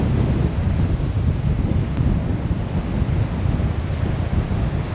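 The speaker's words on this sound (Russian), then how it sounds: "Волны разбиваются" Sea waves breaking on the shore at Ayia Napa, Cyprus, near a port and promenade: a continuous loud wash of surf mixed with heavy wind buffeting the microphone.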